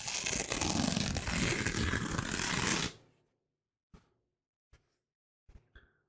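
Dense papery rustling and tearing as toilet paper is shredded by hand for a few seconds, close and loud, then stops, followed by several soft isolated taps and rustles in near silence.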